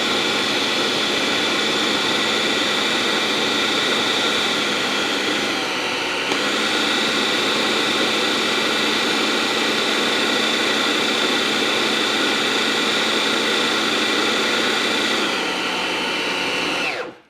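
A food processor spins steadily for about seventeen seconds, whirring loud and even as it crumbles an apple pie mixture, then cuts off at the end.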